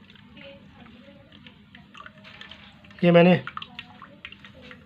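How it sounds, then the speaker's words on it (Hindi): Water from a glass poured into homemade falsa juice with sugar, a short splashing burst under someone speaking nearby. "तकरीबन 1 गिलास पानी का जो है वो मैं ऐड कर रहा हूँ इसके अंदर।"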